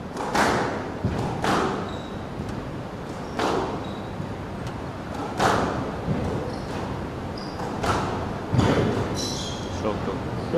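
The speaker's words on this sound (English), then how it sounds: "Two or three quality shots there to the front, getting rewarded for it." Squash ball shots in a professional women's final match: sharp, echoing thuds off racket and walls repeating every second or two in a rally, under continuous commentary and crowd ambience.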